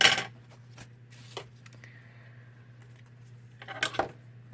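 Scissors snip through paper at a craft table during a Christmas nature-diary craft session, a sharp close crunch at the start, a couple of quieter snips in the middle and a closing flurry of cuts over a steady low hum.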